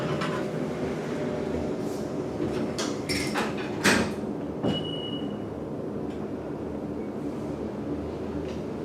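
Otis traction elevator in New York, modernized by Gotham, running between floors: a steady mechanical hum and rumble with brief clunks and a short chime-like tone partway through, close and continuous without talk.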